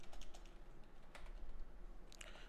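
Quiet keyboard typing at a computer while code is written, scattered soft key clicks in short bursts over a low steady hum, no voice.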